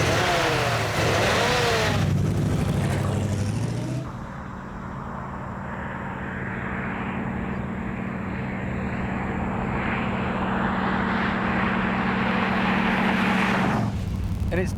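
An early Ford V8 engine revs loud and close, a steady deep drone that rises and holds for about ten seconds before dropping back, with engine noise throughout.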